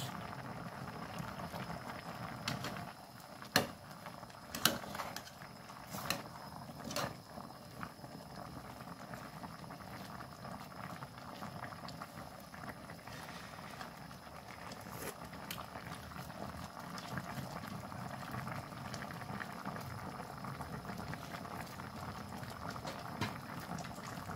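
Coconut milk with jackfruit boiling in a pot, a steady bubbling simmer with occasional louder pops and clinks throughout, no voices.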